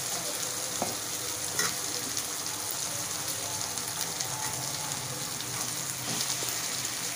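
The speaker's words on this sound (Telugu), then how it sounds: "ఇప్పుడు మనం స్టఫింగ్ చేసుకున్న ఈ వంకాయలు దీంట్లో వేసేద్దాం." Stuffed eggplants go into masala frying in a pan, giving a steady, close, loud sizzle with a few faint clinks and scrapes and no talking.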